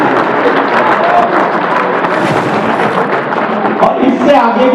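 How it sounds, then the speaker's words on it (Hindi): An audience at a Hindi kavi sammelan poetry gathering claps in a steady, dense wash of applause that lasts the whole stretch, with voices mixed in underneath. "तालियां वालियां बजाते रहे आप।"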